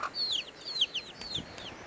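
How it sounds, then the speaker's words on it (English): Several chickens cluck and a rooster calls in short, repeated bursts, close by over a quiet outdoor background in Waimea Valley, Hawaii. "we saw lots of chickens and roosters"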